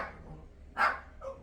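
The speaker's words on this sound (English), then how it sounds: "UPS is here late and so the dogs are barking" Dogs bark indoors as a delivery arrives: a short faint yip, then one loud close bark, then a softer trailing yelp.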